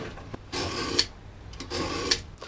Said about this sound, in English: I'm going to take my utility knife, put some marks on it.